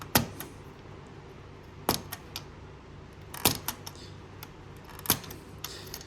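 A hobby knife cuts the top from a plastic M113 model kit part with a few sharp, isolated snaps and clicks spaced a second or two apart, close and quiet with no talking.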